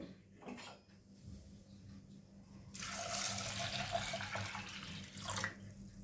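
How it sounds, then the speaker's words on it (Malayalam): Water gushes and splashes into a pot for a few seconds, loud and close, after a quieter stretch of faint clinks. "അതിലേക്ക് നമുക്ക് വേണ്ട വെള്ളം ഒഴിക്കുക"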